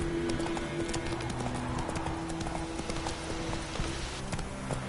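Roach the horse gallops in The Witcher 3, a quick rhythmic clip-clop of hooves pounding steadily under a faint game backdrop, with a brief murmur of voice.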